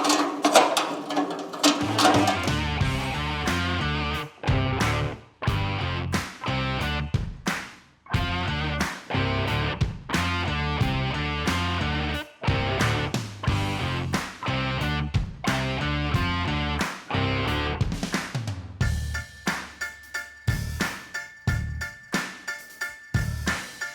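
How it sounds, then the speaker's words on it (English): Welding the inner rocker and torque box on a Mustang: repeated bursts of harsh buzzing crackle, each several seconds long and separated by short pauses, ending in a quieter steady hum. "I'm ready to clamp this thing up and start welding."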